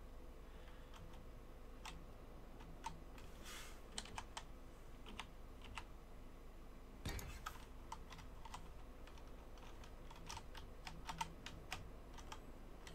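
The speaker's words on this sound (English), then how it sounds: "you mean frantically clicking away on my keyboard" Rapid, frantic clicking and typing on a computer keyboard, sharp irregular keystrokes in quick bursts, close and fairly quiet against a low steady background hum.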